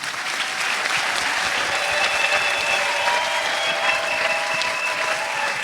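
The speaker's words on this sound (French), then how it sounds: "On acclame le Seigneur." A church congregation at a pastors' ordination service claps steadily together in sustained applause, with faint cheering and calls mixed into the dense clapping.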